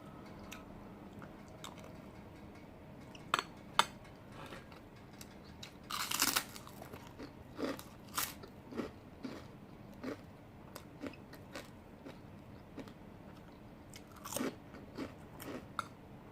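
Someone eating nasi goreng with prawn crackers at a restaurant, with close, loud crunchy bites breaking through the crackers and wetter chewing in between, bursts scattered irregularly throughout without talk.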